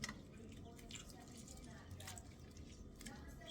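Lemons squeezed by hand to get their juice out: soft, faint wet squishing and light dripping, scattered through a quiet kitchen background.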